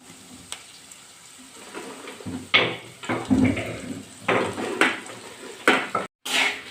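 Okra pieces with turmeric and curry leaves being fried in oil, heard as a soft sizzle under clattering stirring and the scrape of a spatula against the pan.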